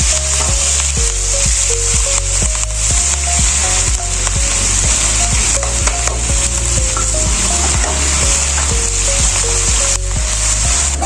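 Green chillies fry on a low flame in a pan for mushroom tadka, giving a steady, loud sizzle with occasional stirring scrapes, set against rhythmic background music.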